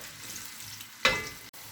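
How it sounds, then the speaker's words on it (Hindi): Onions dropped into hot oil with whole spices for a vegetable pulao give a sudden loud sizzle that rises sharply, then settles into a steady hiss of frying. "प्याज को लाइट गोल्डन ब्राउन होने तक फ्राई कर लेंगे।"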